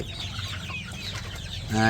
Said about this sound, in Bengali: তো মুরগি এই জায়গায় যে মুরগিগুলো আছে